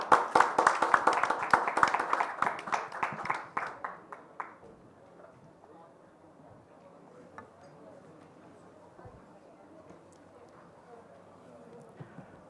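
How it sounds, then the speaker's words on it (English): Audience at a G20 forum event gives a round of applause, dense clapping for about four seconds that thins into scattered claps and fades to quiet room noise with faint sounds. "Please give him a big round of applause."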